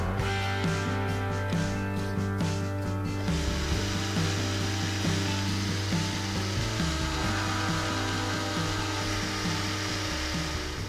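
A power tool drills holes in a homemade wooden trout fishing lure, giving a continuous loud whirring, grinding buzz with a steady rhythmic pulsing throughout and no talk.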